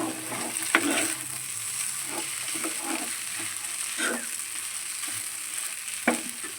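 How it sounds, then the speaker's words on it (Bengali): Pieces of wheat-flour dough fry in a pan while being stirred: a continuous oily sizzle punctuated by sharp clicks and scrapes of the spatula, close and steady with no talking. "আবারও একটু নাড়াচাড়া দিয়ে নেব"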